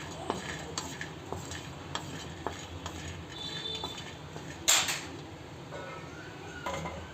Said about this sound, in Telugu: కాజు చాలా త్వరగా వేగిపోతాయండి, కాబట్టి కదుపుతూ వేపించుకోవాలి